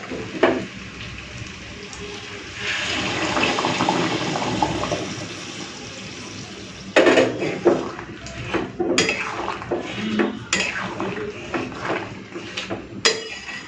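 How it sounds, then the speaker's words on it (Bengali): Hot water pours and splashes into a pot of chicken curry, first as a steady rushing stream, followed by clattering pot and utensil knocks and sizzling as it's mixed in. "চলুন এরপরে এই গরম জলটা দিয়ে দিই"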